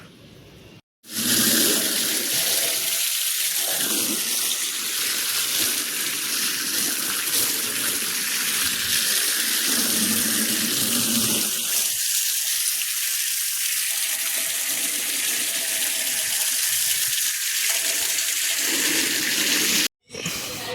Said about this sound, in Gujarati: હવે ગાડી પલારી દઈએ